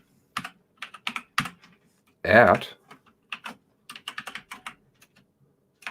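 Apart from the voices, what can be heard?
typing on a loud computer keyboard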